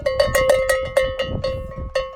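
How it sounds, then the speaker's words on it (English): Bells on horses clank in an irregular jangle while crossing the Pyrenees Mountains, metallic tones repeating as if swaying with movement, fairly close and steady. "Then there were the horses, creating the melodic sounds"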